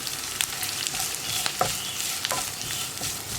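Grated coconut tumbles into onions frying in oil for a Kerala beans thoran, then a spoon stirs it through: a steady close sizzle with a few sharp scrapes and clicks, no voices.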